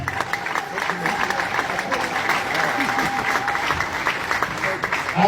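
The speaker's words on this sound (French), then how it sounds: "je vous demanderai de l'applaudir chaleureusement" A seated audience in a hall applauds warmly, a continuous dense clatter of many hands at an even level, with a faint voice briefly audible beneath the clapping.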